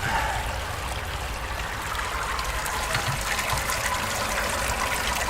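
Beer wort drains steadily from a brewing vessel in a continuous splashing, gushing stream, moderately close and unchanging throughout, with no talking.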